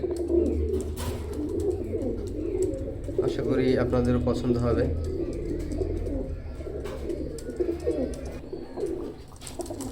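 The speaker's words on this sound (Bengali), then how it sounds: "এই জোড়াটা ওয়ান অফ মাই বেস্ট কবুতর আমার লফটের" Teddy pigeons coo softly in a steady low murmur throughout, with a person talking over them for much of the time.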